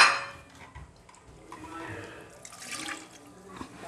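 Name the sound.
pouring water into pressure cooker with beef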